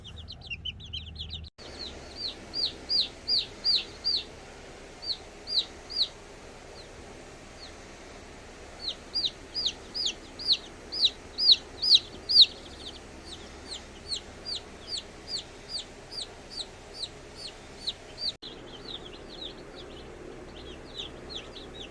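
Backyard chickens give bursts of quick, high, repeated calls in fairly close clusters with short pauses between, over a quiet background.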